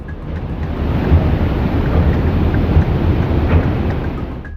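Yamuna river in flood, a steady roar of rushing, churning water close by, broad and continuous with no gaps and no voices.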